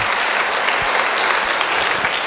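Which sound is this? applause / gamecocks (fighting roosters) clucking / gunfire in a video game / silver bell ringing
applause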